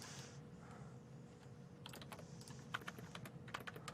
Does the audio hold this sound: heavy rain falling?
no